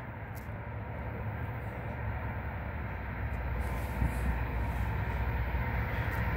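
A CN freight train of empty ethanol and crude oil cars, hauled by ET44AC and ES44AC locomotives, passes at slow speed with a steady rumble that grows slightly louder over several seconds.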